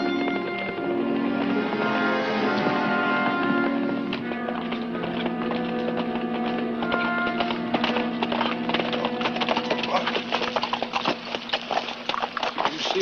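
Horses' hooves clip-clopping steadily as riders head out of a Western town, a continuous rhythmic trot that grows more distinct and percussive over time, with an occasional whinny and no talk.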